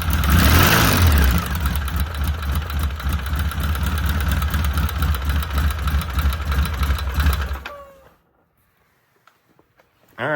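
A 2005 Polaris Sportsman 700 ATV engine idles loud and near with an abnormal noise, a steady rumbling beat that cuts out at about eight seconds, leaving near-silence before a brief burst of engine sound returns at the very end.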